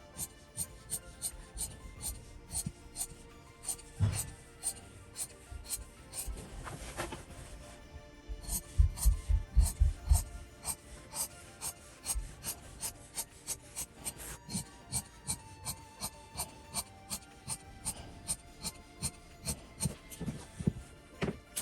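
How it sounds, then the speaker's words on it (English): Fabric being cut around the edge of a fabric basket piece with half an inch extra all around, a steady series of short rasping snips repeating close up, alone without talk. "I'm gonna go around and it cut an extra half an inch all around"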